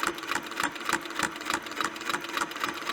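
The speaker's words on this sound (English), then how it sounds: "I'm stitching with a vintage sewing machine. It's a Singer 301." A vintage 1950s Singer 301 straight-stitch sewing machine stitches steadily, its needle mechanism chattering in a fast, even rhythm that runs unbroken and fairly close throughout.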